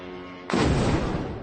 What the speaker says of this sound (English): Loud explosions, plumes of smoke in the Russian capital.